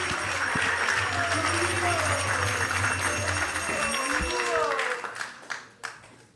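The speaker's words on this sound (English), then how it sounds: "You can clap." An audience at a Hare Krishna initiation ceremony claps in a dense burst of applause with talk layered over it, then thins to a few scattered claps and trails off toward the end.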